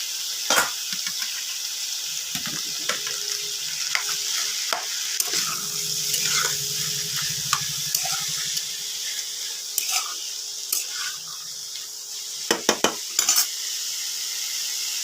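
Boiled cabbage and carrot fry in a pan, a steady sizzle under repeated scraping and stirring strokes of a spatula, with scattered metallic clinks and a few sharper knocks near the end, no talking.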